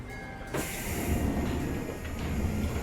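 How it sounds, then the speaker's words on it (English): A train pulls into a station platform in 13 Sentinels, a sudden rush of rumble and hiss with squealing rails continuing steadily, loud and close. "Looks like my train's here."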